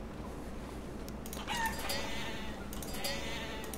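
Sheep bleat in the Life is Feudal: Forest Village game, a few short wavering calls over a steady background hum, moderately loud and nearby.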